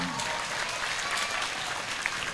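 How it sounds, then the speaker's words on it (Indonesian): Audience clapping fills a university hall at UNISKA Kediri, a dense steady round of applause throughout, fairly close and uninterrupted by speech. "Tepuk tangan."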